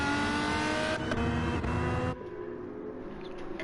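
A supercharged hybrid street race car accelerates hard with a loud, dense engine roar that cuts sharply to a lower, steadier drone after a couple of seconds.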